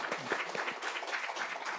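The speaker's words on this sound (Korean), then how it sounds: "박수 감사해요." A church congregation gives a short burst of applause during a Sunday service, a dense patter of many hands clapping at steady volume with a faint voice mixed in.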